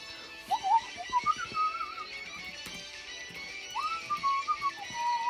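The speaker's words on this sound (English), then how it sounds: "You gotta stop me from whistling." A person whistles a short, wavering tune in two phrases in a quiet indoor room, with faint background hum and a few soft knocks.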